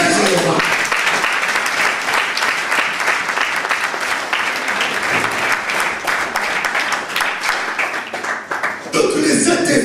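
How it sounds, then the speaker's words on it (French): A church congregation breaks into loud, sustained applause during a sermon, dense clapping filling nearly ten seconds, with cheering voices mixed in. "Applaudissez, je le vois"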